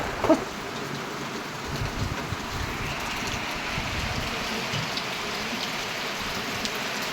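Steady rain falls on surfaces in a dense, even wash of drops that lasts the whole stretch, with no other sound standing out.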